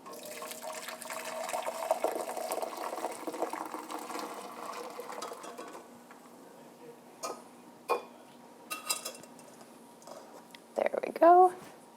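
Chai liquid pours into a Pyrex container, a soft continuous trickle for about six seconds, then a few separate drips and light clinks, and a short bright ring of glass near the end; fairly quiet overall.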